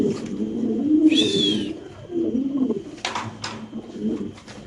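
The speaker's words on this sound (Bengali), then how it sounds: "শ্যাডেল ফ্যান্টেল কবুতর নাকি ভাই?" Shadel fantail pigeons coo at a pigeon farm, soft low rolling coos repeating close by, with a brief whistled call and a few sharp clicks or flaps in between.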